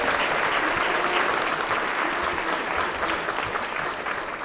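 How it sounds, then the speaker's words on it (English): Sustained applause from an audience at a school support staff awards ceremony, a dense, even clapping that holds steady and fades slightly toward the end. "Let's give them another round of applause"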